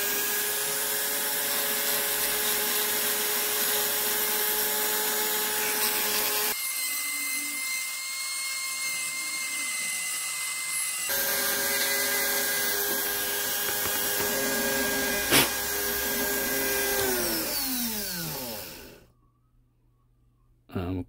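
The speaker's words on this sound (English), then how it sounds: "So we want to use a really, really small diamond encrusted grinding bit and just grind some of this out here." A Dremel with a tiny diamond-encrusted grinding bit working on a part of a clone Bondtech BMG extruder, a steady high-pitched whine held for long stretches, briefly dropping in tone, then spinning down to silence near the end.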